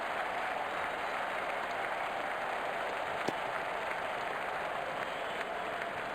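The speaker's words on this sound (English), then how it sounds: "Crowd senses a flurry of boundary here. They are making some serious noise." A cricket video game crowd cheers in a steady, loud, unbroken roar that holds at the same level throughout, with no clear voices over it.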